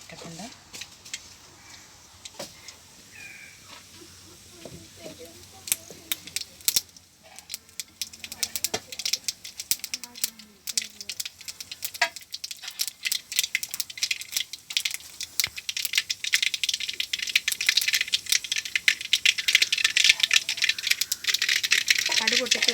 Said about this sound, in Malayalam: ഞാൻ അപ്പോൾ എണ്ണ ചൂടായിട്ട് നമ്മൾ കടുക് പൊട്ടിക്കാൻ പോകും.